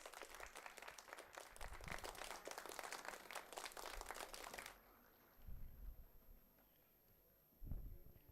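An audience at an inaugural ceremony for a technology conference claps for about five seconds, a dense burst of close hand claps that stops abruptly. After a pause, a couple of low thumps and a short muffled rumble follow.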